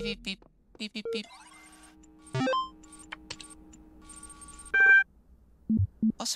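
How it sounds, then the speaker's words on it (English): Electronic beeps and chimes from the video game The Talos Principle sound in short bursts with quiet gaps, some sustained tones and quick repeated blips, clean and close. "Oh, beep beep beep beep. Beep beep beep."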